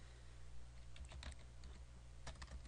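Keys on a computer keyboard clack in short irregular bursts, several quick taps grouped together with brief pauses between, close and fairly quiet, with no voices.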